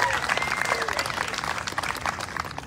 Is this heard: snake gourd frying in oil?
no